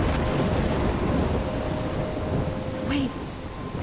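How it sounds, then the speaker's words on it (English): A storm rages in the video game Life Is Strange, with a loud constant roar of wind and rain, low rumbling underneath, and a faint tone drifting through near the end. "I'm trapped in a storm?"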